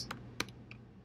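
A few quick keystrokes on a computer keyboard, sharp close clicks over a faint steady background hum.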